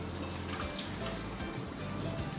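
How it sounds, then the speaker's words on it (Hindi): Half a cup of water is poured into a mutton butt karahi cooking in a pan, giving a close, steady splashing trickle for a couple of seconds. "आधा कप ही हम पानी डालेंगे इसमें"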